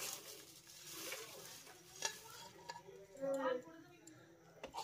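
Fried pitha being gently stirred into lightly cooled sugar syrup, producing soft wet stirring and scraping noises with a few clicks of a utensil against the pot, close and moderately quiet.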